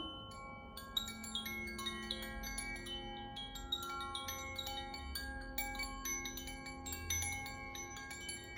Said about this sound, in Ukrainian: Дзвіночок, коша анахата.